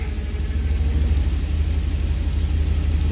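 A Chevy Express van's engine idles steadily and smoothly, a low, even rumble with a faint whir, heard close up without talk.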